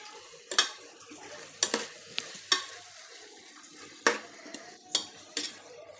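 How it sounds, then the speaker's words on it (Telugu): A spoon stirs goat head curry with freshly added tomatoes in a pot, sending out irregular sharp clinks and scrapes against the metal, with a soft wet churning between strikes. "ఇలాగా టమోటాలు వేసుకున్నాక మళ్ళీ ఒకసారి మొత్తాన్ని బాగా కలుపుకుందామండి."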